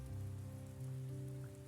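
Rain in the visual novel game Cinderella Phenomenon, a soft continuous patter of rain falling on a surface under faint steady background music.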